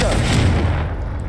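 A Confringo blasting spell from Hogwarts Legacy goes off, giving a loud, close, booming burst. The heavy low rumble starts at once and fades slowly over about a second.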